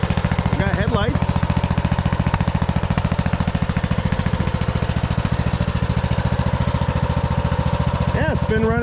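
A repaired Husqvarna lawn tractor engine idles close up with a steady, even low throb throughout, a few brief higher sounds and a voice briefly audible near the start and end.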